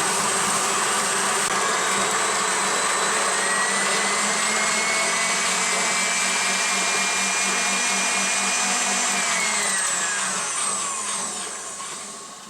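A Mockmill electric grain mill attachment on a KitchenAid mixer grinds grain with a steady, loud whine running continuously, with a rising high-pitched tone near the end as the load drops, then it begins to fade.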